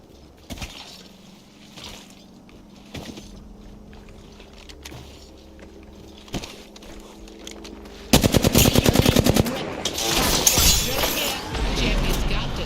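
Automatic gunfire in the battle royale game Apex Legends, a rapid loud stream of shots erupting after several isolated pops, with a player talking over earlier parts.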